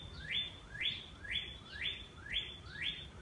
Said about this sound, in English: There are so many birds here.